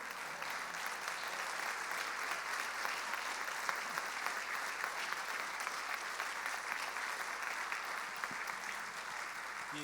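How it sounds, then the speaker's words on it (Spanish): A church congregation claps at length in praise during a Spanish-language sermon, dense, even applause filling the room without letup. "Un aplauso a nuestro Dios."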